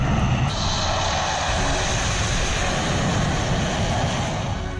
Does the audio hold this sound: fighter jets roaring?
yes